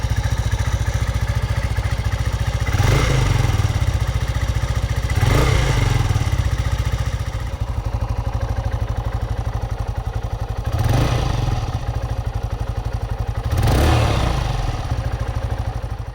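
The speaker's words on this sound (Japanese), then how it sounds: "アイドリングのエンジン音を確認します。" Honda Grom motorcycle engine idling steadily after an overhaul, a loud continuous low rumble with a few brief swells in revs, close up and without talking.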